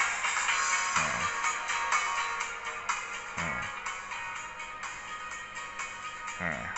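Music plays continuously through the tiny side speaker of an Amazfit Cheetah Pro smartwatch, thin and trebly, close up with no one talking over it.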